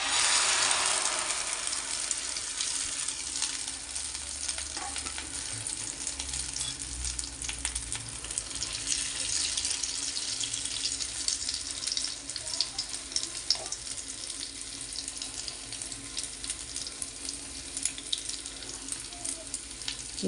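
Potato omelette batter sizzles in hot oil in a pan, a steady close frying hiss with small crackles and occasional clinks running throughout.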